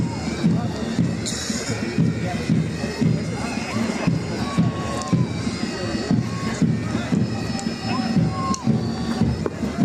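A large outdoor crowd at a police battalion passing-out parade claps and cheers for the JAP-10 women's battalion band, a dense, continuous patter of applause with scattered shouts and a voice speaking over it.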